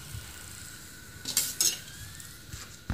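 Mini samosas fry in cooking oil with a faint, steady sizzle, broken by a few brief clattering bursts of stirring and utensils against the pan.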